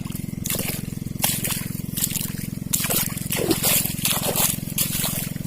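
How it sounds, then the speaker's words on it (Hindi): Water trickles and sloshes steadily from a channel into a mustard field over a constant low pump engine hum, with splashy bursts coming and going and a voice talking intermittently. "ये देखो, नाला से पानी आ रहा है।"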